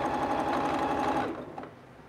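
A domestic sewing machine runs steadily at a sewing table, a fast continuous whir with even motor hum that winds down near the end.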